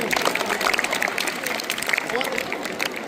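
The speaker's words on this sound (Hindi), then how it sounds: "एक बार जोरदार के लिए सभी तालियां बजाएंगे" Brisk clapping from a crowd, a dense patter of many hands that carries steadily through the whole moment.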